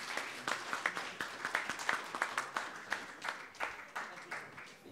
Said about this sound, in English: A good round of applause for this panel